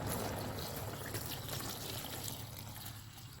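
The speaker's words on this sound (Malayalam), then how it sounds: "ഇനി ഇതിലേക്ക് ഒന്നാം പാൽ ഒഴിച്ചു കൊടുക്കാം" First-extract coconut milk poured into a pot of olan, a Kerala vegetable curry, giving a steady soft trickling, splashing liquid sound that fades slightly toward the end, with no talking.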